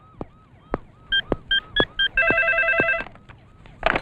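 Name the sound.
telephone ringing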